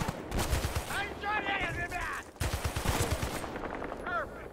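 An M60 machine gun in the Battlefield Bad Company 2 campaign fires rapid rattling bursts amid other gunfire, the sustained volleys broken by a short pause, with a voice talking underneath.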